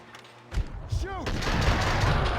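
Gunfire in the video game Max Payne 2, a sudden loud burst of shots that builds into sustained rattling fire with a short descending whistle-like tone in the middle.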